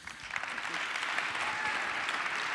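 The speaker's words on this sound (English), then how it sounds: "Please give Bruce a round of applause." An audience at a business talk on growth strategy applauds a speaker, the clapping swelling quickly into a thick, sustained wash that stays steady and fairly near.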